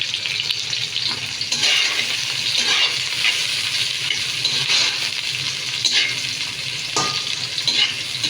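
Bay leaves and cinnamon sizzle steadily in hot oil for a muri ghonto of fish head and mung dal, a continuous loud frying hiss with small crackles and a brief stir near the end, no talk.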